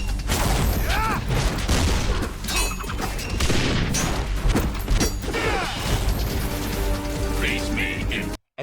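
Heavy energy blasts from the Sonic X Shadow Generations video game, a dense, loud barrage of booming explosive impacts and crackling bursts stacking over one another continuously, with a brief cut to silence at the very end.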